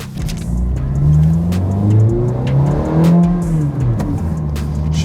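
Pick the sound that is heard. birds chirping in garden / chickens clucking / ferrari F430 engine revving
ferrari F430 engine revving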